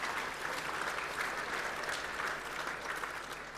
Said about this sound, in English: Give him a round of applause, make him feel welcome.